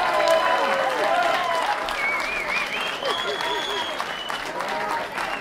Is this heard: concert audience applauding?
yes